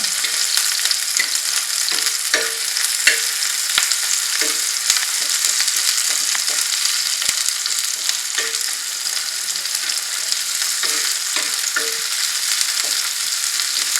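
Onions fry in a pan with a loud, continuous hiss that holds steady for the whole stretch, with scattered faint clicks of stirring.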